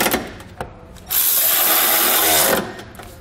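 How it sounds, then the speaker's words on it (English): A power tool or impact driver with a 15 millimeter socket runs in one steady burst of about a second and a half, tightening factory bolts on a 2018 Ford EcoSport during a trailer hitch install, with brief clicks before and after. "we'll just come back with that 15 millimeter socket and tighten up all of our factory bolts"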